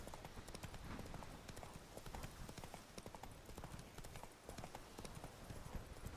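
Roach's hooves clip-clopping in The Witcher 3: Wild Hunt, a brisk, steady galloping rhythm of dense hoof strikes, loud and close throughout, with no speech.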